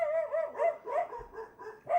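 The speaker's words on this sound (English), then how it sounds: "Dog did bark." A dog barks repeatedly in a backyard, a series of close, fairly loud barks and yips at an uneven pace with brief pauses between them.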